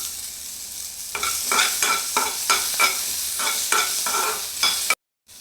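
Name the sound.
cinnamon and cloves frying in a pan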